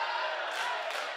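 Home crowd at a girls high school basketball game, Sequoyah vs Woodstock, voicing displeasure: a dense, steady wash of many raised voices and shouts filling the gym, loud and sustained throughout.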